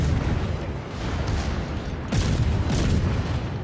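Secondary guns on a warship firing during a World of Warships naval battle, a dense run of loud booming blasts that swells again midway, with no voices over it.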